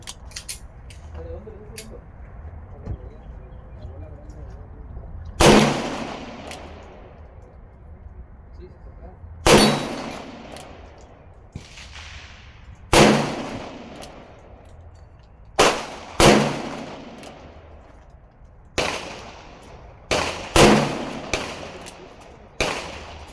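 Colt Kodiak .44 Magnum revolver fired outdoors, eight or so loud sharp cracks spaced a few seconds apart, each ringing out with a decaying echo, with faint background noise between shots.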